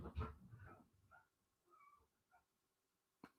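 Dogs scuffle nearby in a brief burst of growls, yips and whimpers, loud at first then fading into softer grumbles, with a sharp knock at the end.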